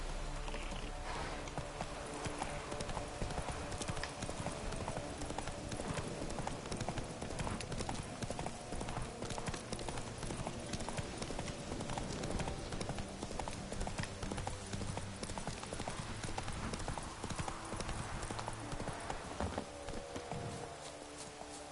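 Hooves of the horse Roach in The Witcher 3 clopping in a steady trotting rhythm, continuous and fairly loud for the whole stretch, with faint background sounds but no clear talk.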